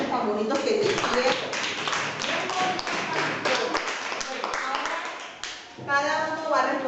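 Children in a rural school classroom clap together in a steady run of close hand claps that fades briefly near the end, then picks up again, with some chatter mixed in.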